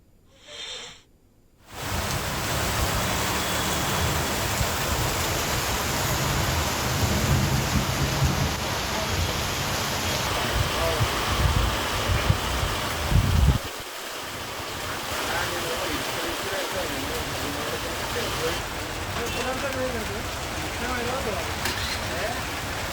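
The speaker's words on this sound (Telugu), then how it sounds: "ఉరుములు, ఈదురుగాలులతో కూడిన ఈ వర్షం మరొక గంట పాటు ఇలాగే కొనసాగనుందని" Heavy downpour in Hyderabad with thunderstorm winds. A dense, loud, continuous rush of rain follows a brief quieter opening and shifts slightly in intensity partway through.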